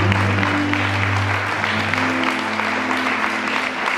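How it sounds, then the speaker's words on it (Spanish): A church congregation claps in dense, sustained applause at a deliverance service, steady and full throughout, with a low electronic hum running beneath it. "Dámelo un fuerte aplauso."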